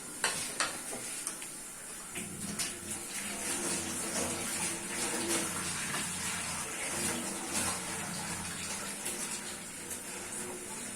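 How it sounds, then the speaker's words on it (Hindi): Potatoes are washed by hand under a running kitchen tap. The water makes a steady, close hiss and splash for the whole stretch, with small knocks and rubbing sounds and no talking. "तब तक आलू वॉश कर लेते हैं।"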